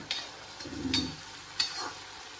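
Onions tossed into a sizzling pan for vegetable seviyan, with soft sizzle and a few spoon scrapes and clatters, close and fairly quiet.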